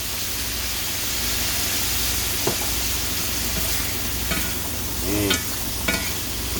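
Steady sizzling of deer meat stir-frying in soy sauce in a hot pan, with a few brief clinks and stirring scrapes over the constant hiss.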